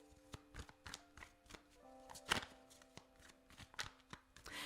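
Tarot cards are shuffled close by, a quick series of soft papery taps and riffles in an irregular rhythm, faint against a quiet room.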